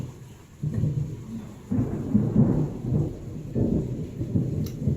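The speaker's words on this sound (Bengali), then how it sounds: "প্রচুর মেঘে ডাকতেছে অনেকদিন পরে" Thunder rolls in several low rumbling swells on a rainy day, with faint rain beneath and no talking.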